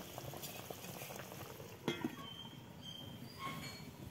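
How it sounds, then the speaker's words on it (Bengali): Fish curry broth bubbles in a covered pot, a faint low simmering rumble with soft irregular bubbling and one brief clink of a lid or utensil midway, quiet and close with no voices. "এখন এই যে ঝোল ফুটে গেছে"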